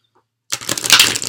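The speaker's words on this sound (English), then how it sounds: "it's a little bit hard to get a nice like shuffle going here." Large tarot cards being shuffled by hand, a sudden close burst of crisp riffling and flapping card noise after a brief silence, continuing with uneven scratchy rustles.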